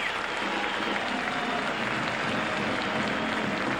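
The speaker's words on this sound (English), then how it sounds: "Appreciative crowd here in Candlestick Park." A large stadium crowd of about 45,000 applauds steadily at Candlestick Park during an NFL game between the New York Giants and San Francisco 49ers, a dense, even wash of clapping throughout.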